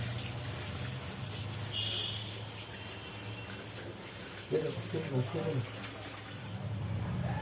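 A running kitchen tap pours water steadily while a potted plant is rinsed, a continuous wash with splashing and handling noises in the middle.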